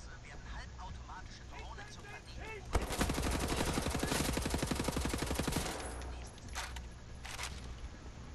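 Enemy scatter guns firing in Wolfenstein: The New Order, a dense burst of rapid gunfire that opens abruptly and rattles on for about three seconds, followed by a few separate sharp shots.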